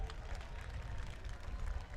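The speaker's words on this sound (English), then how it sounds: "let's have a nice big round of applause for your winner tonight, Aaron Foy, in car number 7" Applause and crowd noise from spectators at a New Smyrna Hoosier Series race, greeting the night's winner in car number 7: steady, fairly distant clapping mixed with a murmuring crowd, with no clear breaks.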